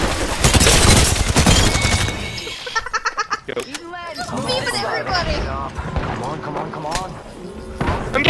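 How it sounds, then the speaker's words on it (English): Heavy bursts of gunfire in Apex Legends open loudly, then break into scattered shots and impacts, with excited voices talking and shouting over the action. "I'm getting shot at!"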